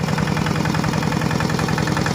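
The engine of a used farm tractor runs at a steady idle, a close, even, low mechanical chug with rapid regular pulses and no talking.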